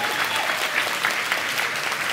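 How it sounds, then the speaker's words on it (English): A cosplay event audience gives a steady, dense burst of applause for a Songbird cosplayer, with many hands clapping together at close range. "And we'll also give you a big round of applause"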